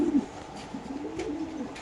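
Young Shadel pigeons at a pigeon market give soft cooing calls, close by and fairly quiet, with a short louder coo at the start.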